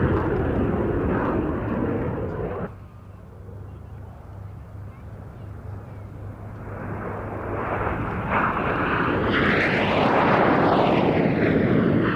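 An F-86 Sabre jet fighter flies at a Duxford airshow, its broad engine roar swelling and fading as it passes, with a rising, sweeping whine toward the end.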